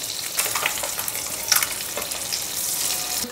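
Eggs fry in oil in a pan with a steady, close sizzle and crackle, a few sharper pops rising out of the hiss.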